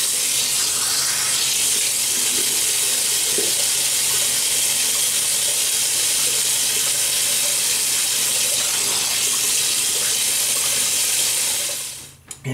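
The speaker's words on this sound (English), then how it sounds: "so let me wet the face." Tap water runs steadily into a sink to wet the face before a shave, a continuous close hiss and splash lasting about twelve seconds before cutting off abruptly.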